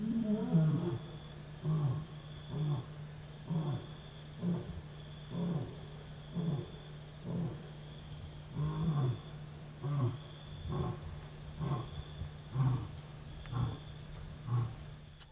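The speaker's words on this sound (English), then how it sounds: "You haven't really heard Africa if you haven't heard a lion roar." A lion roars near a camp in Zimbabwe, a faint, distant series of deep grunting roars repeating in a steady rhythm against a quiet night background with a faint steady hum.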